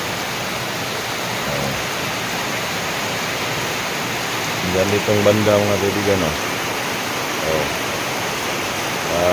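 Heavy rain pours down before dawn as a steady, loud, even wash of noise, with floodwater nearby; someone talks briefly partway through.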